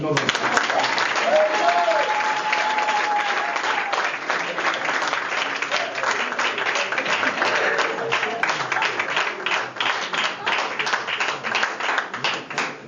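Audience applause at a live comedy show in Cameroon, a sustained roar of many people clapping with crowd noise, strong and even before gradually thinning toward the end, with a voice briefly audible near the start.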